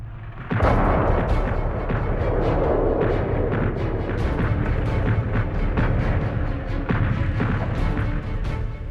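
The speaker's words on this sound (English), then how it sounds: "the eerie calm in the Allied trenches was broken by the heaviest bombardment of the entire First World War" Heavy First World War artillery bombardment along a trench front, a dense, continuous roar of overlapping booms and crashes that starts abruptly and stays loud throughout, with no voices.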